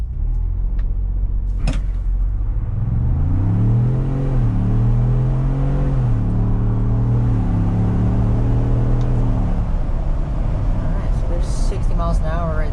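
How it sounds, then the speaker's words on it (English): A 2022 Ford Bronco Wildtrak accelerating hard from a standstill in a 0 to 60 run, with engine rumble climbing in pitch through several gear changes, heard from inside the cabin under steady road and wind noise. "We can do a little 0 to 60 test here, just to see if it has enough power"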